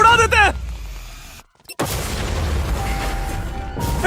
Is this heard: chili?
no